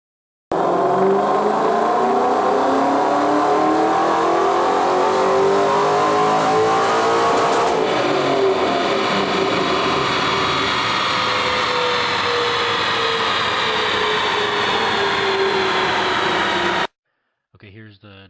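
A supercharged 2012 Ford Mustang GT V8 roars on a Superflow chassis dyno, loud and close, its pitch climbing through a long wide-open pull with a brief shift-like break, then cutting off abruptly.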